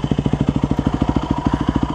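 A 2001 Yamaha WR250F four-stroke dirt bike engine runs at a steady idle close by, with an even, rapid thumping pulse and no talk over it.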